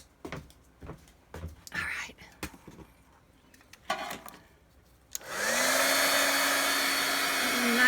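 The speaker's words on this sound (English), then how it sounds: "gonna get my blow dryer thing, my heat gun" Soft whispery rustling and handling noises give way to a heat gun switching on over fabric painted with Distress Oxide, a loud steady blowing whir with a motor hum that continues to the end.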